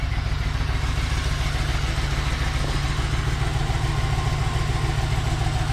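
A Foxbody Mustang engine idles with an air leak, giving a steady, loud, close idle with a constant rhythmic pulse. A faint hiss sits within the running engine throughout.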